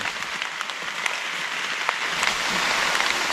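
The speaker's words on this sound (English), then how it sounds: "as soon as I did, the skies have opened up and it has been pouring" Torrential rain pours down on a forest trail in a steady, dense hiss, with scattered heavier drops pattering close by throughout.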